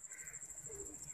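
A pigeon gives a soft, low coo, faint and at some distance, with a steady high electronic whine and light background noise.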